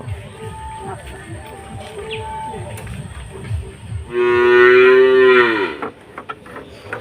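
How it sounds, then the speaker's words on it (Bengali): A cow (milking cow) in a rural village lets out one long, loud, close moo lasting about two seconds, preceded by people talking and rustling outdoors. "এই গাভী কার, আপনার?"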